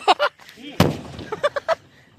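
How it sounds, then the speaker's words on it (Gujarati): A Diwali firecracker bomb goes off with one sharp, loud bang followed by a rumbling tail, with short bursts of voices and sounds before and after it. "બે બોમ્બ હતા"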